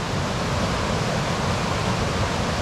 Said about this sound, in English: we got the water rushing